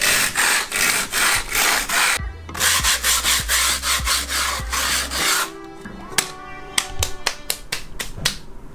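Screw holes being made through grip tape on a penny skateboard deck: rhythmic rasping strokes in quick repeated bursts, then a pause and sharper isolated clicks and scrapes, close and loud, with no talk.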